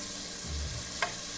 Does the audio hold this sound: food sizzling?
yes